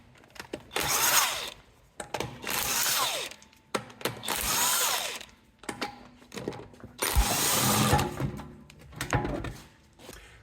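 A power tool, likely an impact gun, whirs in several loud, close bursts while removing the front wheel of an Alfa Romeo Brera, with short pauses between runs.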